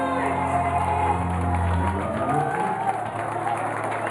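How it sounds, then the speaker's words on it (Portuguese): A church celebration crowd applauding and cheering for Jesus, a dense continuous wash of clapping and voices over music, loud and close. "Aplauda Jesus"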